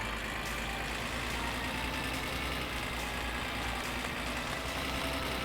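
A car engine runs in My Summer Car, a loud, constant low rumbling drone with a broad noisy hiss that holds steady throughout, with no talking.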